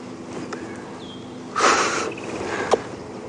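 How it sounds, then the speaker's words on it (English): An animal sniffs the ground close by on a morning safari drive at Djuma Game Reserve, a short burst of breathy snuffling followed by quieter sniffs against a faint ambient background. "Sniffity, sniff, sniff, sniff."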